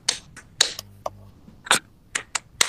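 A school class of eighth-graders doing the Tepuk PPK clapping chant, sharp separate claps in an uneven rhythmic pattern with short pauses between groups, close and fairly loud, no talk.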